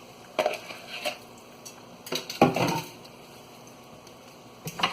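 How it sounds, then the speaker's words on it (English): A spoon stirring arroz con gandules in a pot, with several scraping clanks of metal against the pot in short bursts and quiet gaps between them. "we are gonna come with the spoon and we are gonna mix it up"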